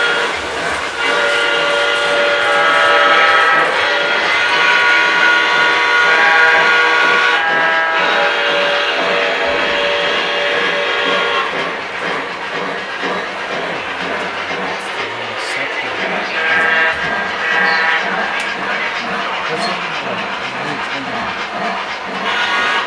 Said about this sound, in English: Excursion train going on here now.